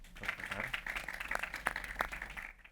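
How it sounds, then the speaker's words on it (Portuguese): An audience claps at a talk on electric mobility, a modest round of applause with scattered individual claps standing out, steady for a couple of seconds before fading. "Podem bater palmas"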